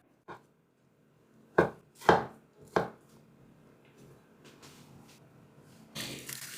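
Knife slicing imitation crab sticks thinly on a cutting board: three sharp, separate chops close by, then softer cuts trailing off.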